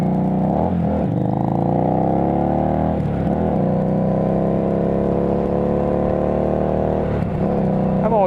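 Kawasaki Versys 650 LT motorcycle engine droning steadily while riding, a loud continuous parallel-twin hum with gear shifts and slight pitch rises and dips, close and alone throughout.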